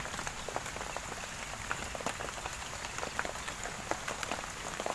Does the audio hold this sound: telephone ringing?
no